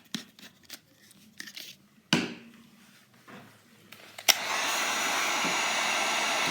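A handheld hair dryer switches on after a few scattered handling taps and knocks, then blows a steady, loud whooshing roar to heat glue on the toe of a pump shoe while it is being closed.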